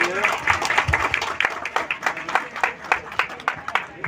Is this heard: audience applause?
yes